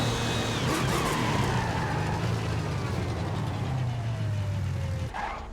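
A car in the racing game Forza Horizon 5 roars under hard acceleration, its engine note sweeping steadily through the gears with tyre noise, loud and continuous, then easing off at the end.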